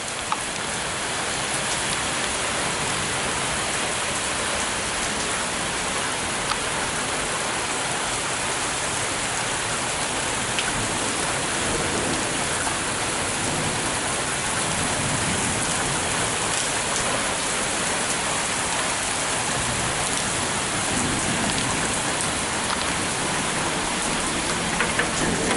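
Heavy rain pours steadily during a severe summer thunderstorm in Flat Rock, Michigan, a dense, unbroken hiss of water drumming on surfaces that stays loud and even from start to finish, with no voices.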